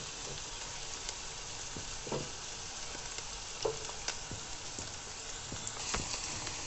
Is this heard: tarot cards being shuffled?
no